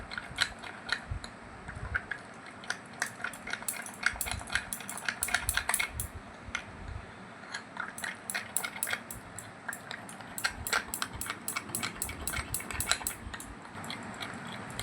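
A spoon scrapes and clinks repeatedly against a bowl while mixing a thick homemade face pack paste with a little water, quick irregular metallic ticks and scrapes, fairly close and without speech.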